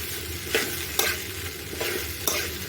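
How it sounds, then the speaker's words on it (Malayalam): Grated coconut is stirred into idli upma in a hot pan: steady scraping spoon strokes about every half second over a continuous soft sizzle, close and moderately loud, with no talking. "കുറച്ച് തേങ്ങ കൂടെ ഇട്ട് നമുക്ക് ഇളക്കി കൊടുക്കാം"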